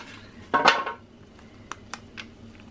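Ice cream containers taken from a freezer are opened, with a clattery rustle of lids and packaging followed by several faint, scattered taps and clicks in a quiet room.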